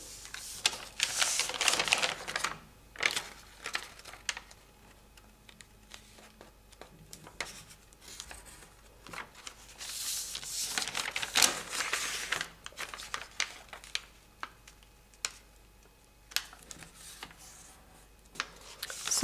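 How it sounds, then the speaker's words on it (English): Origami paper being creased and folded along its diagonals while making a box and lid, giving crisp crinkling rustles and sharp pressing scrapes in irregular bursts, close and fairly quiet, with no talking. "Crease and crease the other diagonal. Unfold. And then fold the other two diagonals here."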